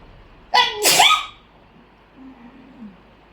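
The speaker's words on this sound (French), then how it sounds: "pardon, Atchoum" A person gives one loud, sharp sneeze with a double burst, followed by faint breathing in a quiet room.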